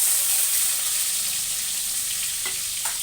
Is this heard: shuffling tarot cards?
no